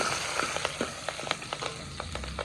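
Green chillies fry in oil in a pan while a village-style meal is cooked, giving a soft, close sizzle with scattered small pops and crackles and no voices.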